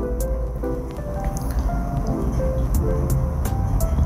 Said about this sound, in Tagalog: haluin lang natin po ng bahagya